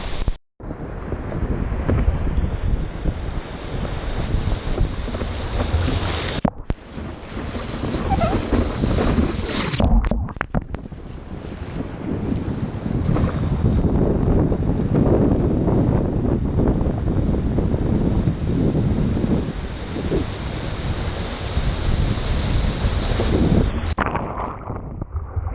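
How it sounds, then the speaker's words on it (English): Weak surf at the beach heard through heavy wind buffeting on the microphone, a steady loud roar of wind and washing water with a brief drop near the start. "They're not very powerful waves today,"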